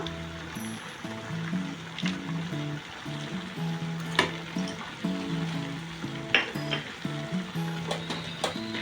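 Food fries and sizzles steadily in a pan while being stirred, an even crackling hiss with a few sharp clinks against the pan, as an evening dish cooks.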